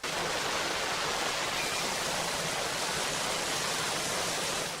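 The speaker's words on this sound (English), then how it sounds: "now there's the waterfall" Waterfall torrent in a film scene, a dense, steady broadband roar of crashing water that stays loud and unbroken throughout with no voices.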